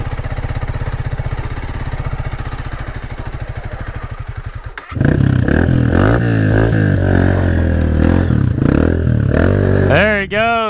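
Honda CRF300L dirt bike crawling slowly uphill off-road: a steady low idle-like engine putter for the first half, then a louder, close engine labouring with rising and falling revs, scrapes and clatter.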